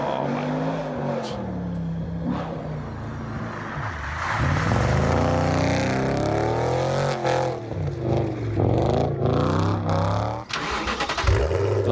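A manual Audi RS4 B7 with a 4.2 V8 starts and revs, its deep burble rising and falling through several loud throttle blips and accelerations, with a voice faintly underneath at times.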